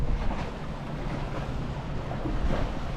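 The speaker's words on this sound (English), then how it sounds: "It's a little windy today" Steady wind blows over the St. Johns River, a broad continuous rushing with microphone buffeting and a faint wash of water, no voices.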